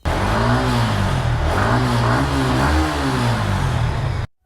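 A secondhand Yamaha R15 V3 motorcycle in good condition revs hard and close, its engine note rising and dipping through several throttle blips in a steady, loud roar that cuts off abruptly at the end.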